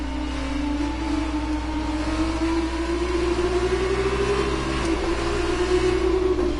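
A race car engine in a video game whines steadily, pitch climbing gradually as it revs, with a brief shift around the middle, continuous and fairly loud with no voices.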